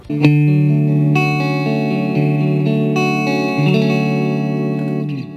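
An electric guitar plays sustained, ringing chords through a Fender Mustang LT 25 modelling amplifier, with distortion, chorus and reverb effects. Loud and close, with a few chord changes and no talking.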